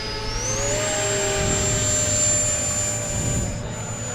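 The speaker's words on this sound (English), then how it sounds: "Man, that's a nice jet." An FMS radio-controlled model jet aircraft flies at an outdoor flying event with a loud, continuous turbine whine that climbs in pitch early, then holds steady with a roaring wash beneath.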